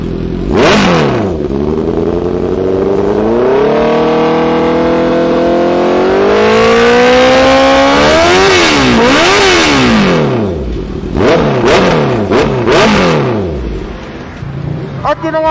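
Honda CB650R motorcycle fitted with a Vilain R11 titanium exhaust, revving hard close up in repeated rising and falling sweeps, with a burst of sharp blips near the end.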